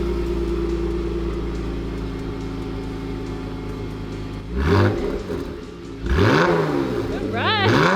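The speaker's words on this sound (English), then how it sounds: "Ready to hear some revs?" Dodge Challenger GT with a Borla S-Type cat-back exhaust: a steady loud idle rumble, then two sharp revs that climb and drop back, the second followed by quick blips near the end, with brief voices.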